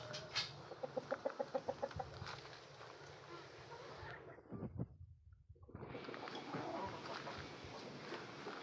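Chickens cluck in a quick run of repeated notes early on, then softer farmyard clucking and rustling continues through a steady background hum.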